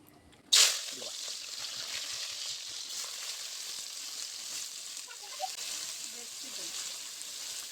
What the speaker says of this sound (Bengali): দেখো এখন আগে রসুনটা দিয়ে নেই